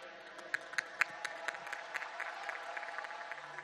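Scattered clapping from a large crowd at the closing ceremony of the 36th National Games in Gujarat, 2022, heard at a moderate distance with a few sharper claps standing out over a steady background murmur.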